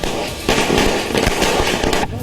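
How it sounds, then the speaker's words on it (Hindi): Firecrackers go off in a rapid, crackling barrage at celebrations across Indian cities such as Delhi, Mumbai, Patna and Kanpur. The bursts are loud and dense, with sharp pops layered over a continuous din of crowd noise. "दिल्ली से लेकर मुंबई तक और पटना से लेकर कानपुर तक पटाखे जलाकर भारत में जश्न मनाया"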